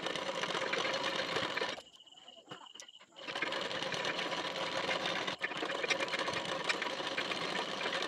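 A sewing machine stitches a folded waistband strip about half an inch from the edge. The motor whirs in long steady runs, broken by a short pause partway through, with a brief click later on.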